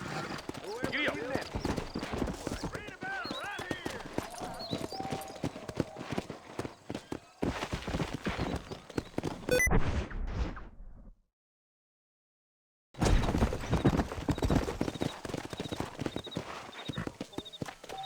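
Horse hooves clip-clop steadily in the Red Dead Redemption video game under continuous character dialogue, with music and game ambience. The sound cuts to silence briefly, then the hoofbeats resume.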